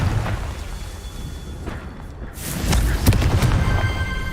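A Confringo fire spell bursts in Hogwarts Legacy as a deep, rumbling boom that swells over the last couple of seconds amid game ambience and a crackling tail.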